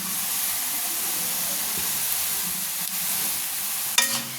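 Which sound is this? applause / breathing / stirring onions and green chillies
stirring onions and green chillies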